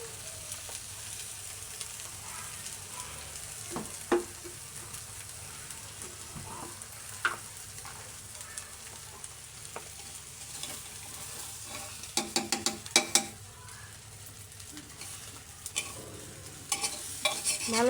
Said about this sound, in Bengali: ভেজে রাখা চালগুলো আমি সবজির সাথে নাড়াচাড়া করে নেব।